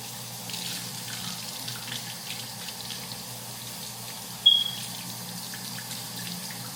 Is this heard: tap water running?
yes